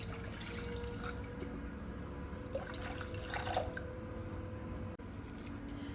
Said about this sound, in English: In a sauce pot, I am adding the boiled tur dal water.